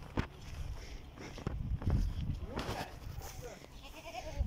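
Goats bleat intermittently around a rural homestead for sale in a Belarusian agro-town, with footsteps and people talking nearby over the animal calls.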